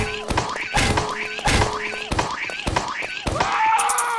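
A series of heavy, punchy bazooka shots in a Roblox obby game fire at a steady pace, about one every half second, with whooshing tails and a game-like wail over them.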